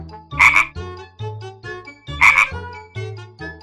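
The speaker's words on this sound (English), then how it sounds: "Frog." A frog croaks in two loud, close bursts, each a rough rattling call followed by softer trailing croaks.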